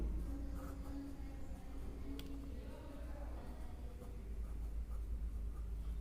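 Pen or chalk scratches out handwriting at close range in short, quiet strokes over a steady low hum, with no talking.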